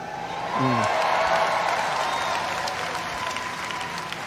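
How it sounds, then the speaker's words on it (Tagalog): A large church congregation at a JIL gathering claps steadily in a sustained, even burst of applause with a faint crowd murmur and a hint of cheering. "Mas malakas din ang palakpak"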